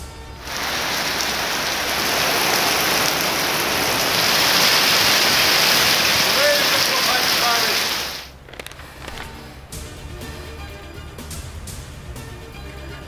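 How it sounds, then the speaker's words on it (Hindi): Heavy rain pours steadily in a loud, dense wash of noise for about eight seconds, then stops abruptly, leaving a quieter background with scattered faint clicks. "तेज़ हवाओं के साथ बारिश"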